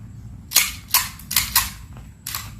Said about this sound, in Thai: ผมให้คุณสนทิเดชยิงไปแล้วครับ